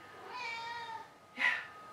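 A cat meows twice indoors: a drawn-out tonal meow about a second long, then a short, sharper second call, both close and moderately quiet with no talking.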